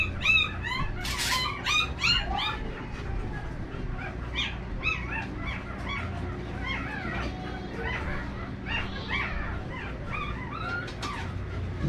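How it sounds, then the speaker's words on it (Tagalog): Several puppies bark, yelp and whimper continuously nearby, a busy overlapping chorus of high-pitched cries over a low background rumble. "Ingay ng mga aso, mga tuta pala."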